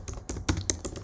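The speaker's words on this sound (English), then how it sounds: "let's type in python" Quick keystrokes on a computer keyboard entering a Python command, about half a dozen close, crisp clicks in an uneven rhythm within a second.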